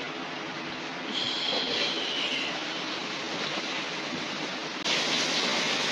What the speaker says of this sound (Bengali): আর দেখায় অনেক জোরে জোরে বৃষ্টি হচ্ছে।